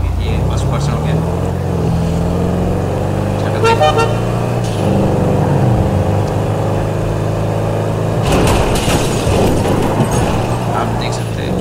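A car driven at speed in GTA 5, seen from first person, gives a steady engine roar throughout, with a couple of horn toots and a louder burst near the end, while someone talks over it.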